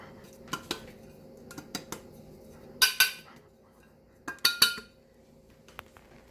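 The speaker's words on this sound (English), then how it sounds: "We're going to be turning and tapping as we get the flour coated onto the pan." A baking pan is turned and tapped to spread a coating of flour, giving scattered light metallic clinks and knocks with two louder clusters of taps, close by and with no talking.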